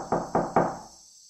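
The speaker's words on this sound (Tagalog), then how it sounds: "Kumakatok." Three sharp knocks land on a door in an even rhythm, each a close, solid thud with a short ring. A faint high insect-like hum continues underneath.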